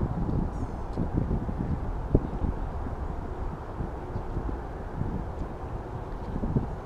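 Wind buffets the microphone in low, rumbling gusts, a steady blustery roar outdoors with occasional louder thumps and no one speaking.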